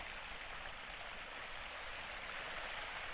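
A small outdoor stream spills over its edge past drifting leaves, a steady close rush of splashing water with no voices.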